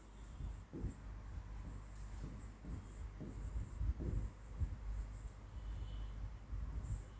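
Writing during a physics lesson on standing waves, a series of soft scratchy strokes in uneven bursts, fairly faint and close, with a thin high whine in the background and no speech.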